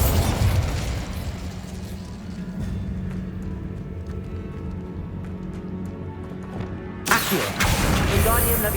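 Bombarda blasting spell explosion in a Hogwarts Legacy game, a loud sustained rumbling blast with crackling debris, then a sharp fresh burst near the end.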